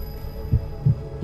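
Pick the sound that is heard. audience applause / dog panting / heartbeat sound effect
heartbeat sound effect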